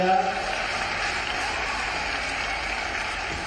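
An audience at a large outdoor tree-planting event in Indore claps in a steady, dense wash of applause that holds evenly throughout, with a voice faintly present near the start.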